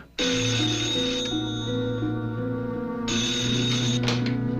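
A telephone rings loudly and without a break in a slasher film, a bright electronic trilling tone with a pause partway through before it resumes, up close with no voices over it.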